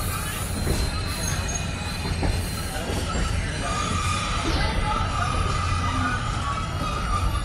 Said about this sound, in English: we're arriving at the train station now